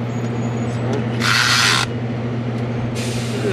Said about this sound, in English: Ratchet skip.